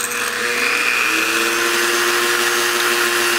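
A Dremel cutoff wheel mounted on a lathe cuts through a small rod, giving a steady, close, high-pitched grinding whine that holds constant throughout.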